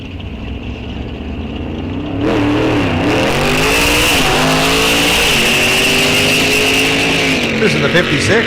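A 1956 Chevelle muscle car launches and accelerates down the drag strip at Rock Falls Raceway, its engine roaring loud and close with rising gear-by-gear revs after a quieter idle, an announcer talking over it.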